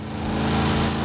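A tuned first-generation 1968 Pontiac Firebird with a supercharger poking through the hood, as modeled in Forza Horizon 5, holds a steady, droning engine note, dense and continuous at close range.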